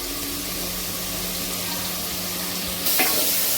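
Ginger garlic paste sautéing in a pan for Madurai-style mutton paaya gives a steady close hiss and sizzle that swells louder near the end, with no voices.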